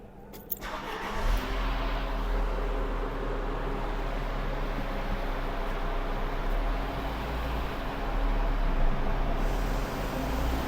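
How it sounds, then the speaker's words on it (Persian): A Peugeot Pars car revs hard on a dyno during a top-speed run, its engine note rising and holding loud and steady for about ten seconds after a brief startup burst, with a faint roar of cooling fans underneath. "این ماشین رو داینوه، ما می‌خوایم رو داینو تاپ اسپید بگیریم"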